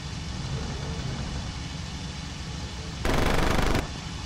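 Aircraft cannon and machine-gun fire in the Cliffs of Dover flight game comes as one short, loud, rapid burst near the end, over a steady engine roar.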